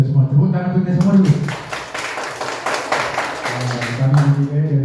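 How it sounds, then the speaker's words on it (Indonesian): A school audience claps at a high school vocal solo audition, with a burst of applause mixed with tapping and spoken voices around it. "Tepuk tangan untuk kita semua dulu."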